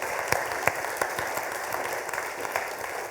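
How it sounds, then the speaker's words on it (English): A crowd at a human trafficking awareness event gives a round of applause, a steady, fairly close wash of clapping with distinct individual claps that holds for the whole few seconds. "Would you join me in giving a round of applause to Leanne?"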